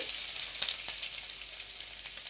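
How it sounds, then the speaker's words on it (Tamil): Steady, soft sizzling of finely chopped ginger, garlic and green chilli frying in hot oil over low heat, with a few faint crackles and pops, no voices. "சேர்த்து நம்ம வதக்கிக்கலாம். நல்லா கொஞ்சம் பொன்னிறமாக வறுபடட்டும்."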